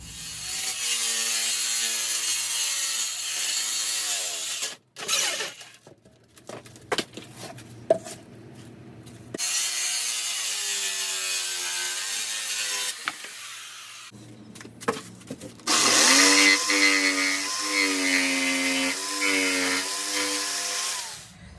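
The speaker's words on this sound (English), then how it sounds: "I'm about to cut the plywood so I could get the bottom of the seat put on" A power saw rips through a sheet of plywood being cut for the bottom of a golf cart seat, three long loud whining cuts separated by short pauses filled with clunks and handling noise, close by, with no talking.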